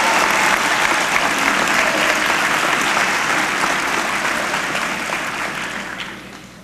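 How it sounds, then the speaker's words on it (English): A crowd at a mayoral swearing-in applauds a former mayor, loud sustained clapping from many hands that gradually thins and fades toward the end. "If he is, let's give him a round of applause."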